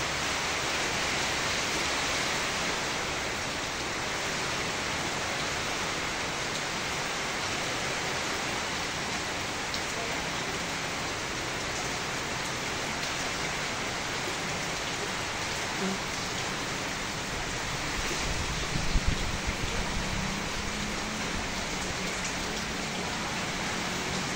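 Heavy typhoon rain pours continuously with gusting wind, a dense loud hiss of downpour on surfaces that never lets up, with a brief knock or thump near the end.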